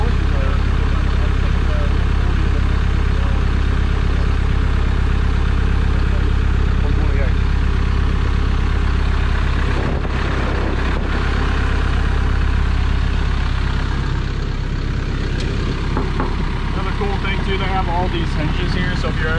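A Perkins diesel engine of about 160 horsepower idles on an excavator, a loud, steady low rumble that runs unbroken for the whole stretch. People talk over it.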